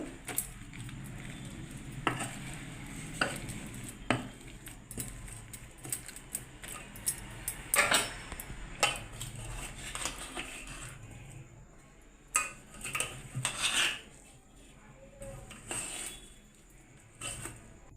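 Raw banana and chili being pounded with a wooden-handled dal masher in a pot for Andhra-style mudda kura, giving scattered dull knocks and clinks at an irregular pace in a quiet kitchen.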